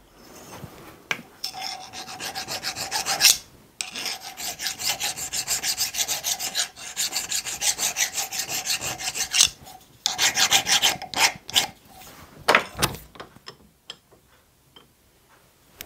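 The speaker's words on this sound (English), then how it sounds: "I'll have to deburr the inside of that" A hand file rasps back and forth inside a small steam engine part being deburred, steady close strokes in long runs broken by brief pauses, with no talking.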